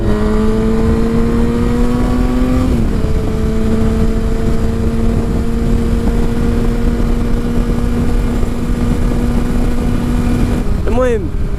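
A Yamaha FZ6 motorcycle engine runs steadily at close range, holding a constant idle-like drone with a brief shift in pitch early on and a quick rising rev near the end.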